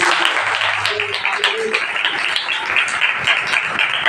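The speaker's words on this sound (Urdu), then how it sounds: "زوردار تالیاں" Loud applause rolls through a church congregation, a dense steady patter of many hands clapping at once, with voices calling out underneath.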